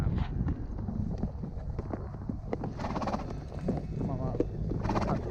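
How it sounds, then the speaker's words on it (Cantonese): A horse carrying a rider walks across the grassy Kusasenri plain, hooves clip-clopping in a steady close rhythm over a low wind-buffeted background, while people chatter nearby. "係啊，Amber騎馬"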